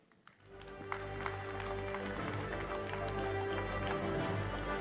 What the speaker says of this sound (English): Big round of applause for Mr. Alan Elliott Mershon.